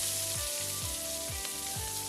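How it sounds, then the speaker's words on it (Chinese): Scallion whites sizzling in hot oil in a wok for a home-style ginger pork dish, a steady close frying hiss with faint rhythmic stirring scrapes underneath, no talking. "先把我们的葱白爆香"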